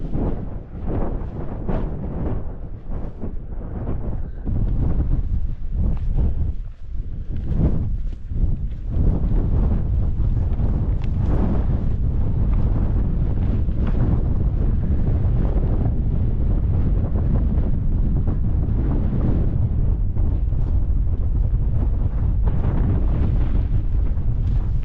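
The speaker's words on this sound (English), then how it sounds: "Wind's picked up." Strong wind roars steadily across a microphone on a Lake District mountain above 3000 feet, a loud, continuous buffeting rush with gusty surges and no talking.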